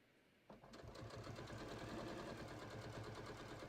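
A sewing machine starts up and stitches patio cushion covers, a rapid steady mechanical whirring and clatter close by, running continuously after a brief quiet moment.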